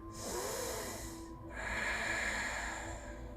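Soft, breathy inhalations through the nose during a yoga session, heard as two quiet, hissing airflows back to back over a faint background hum, with no talking.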